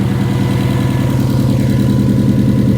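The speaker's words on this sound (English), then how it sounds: "You can hear the misfire, but it doesn't look like it's misfire." A Mercedes GLE 450 engine idles with a misfire, producing a loud, close, steady rumble with a pulsing, uneven throb throughout and no talking.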